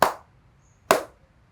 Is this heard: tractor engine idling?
no